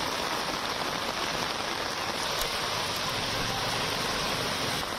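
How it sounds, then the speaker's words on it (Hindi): Torrential rain pours steadily during flooding, a dense, unbroken hiss of heavy downpour without speech. "मूसलाधार बारिश का दौर यहां पर जारी है।"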